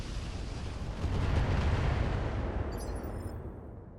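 Heavy mech weapons fire in the RogueTech game, a loud sustained rumbling barrage that swells around the middle and then tapers off, with faint high electronic chirps near the end and no speech.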